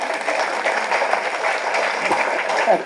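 An audience claps after a speech at a film event, a dense, steady burst of applause throughout, fairly loud and close.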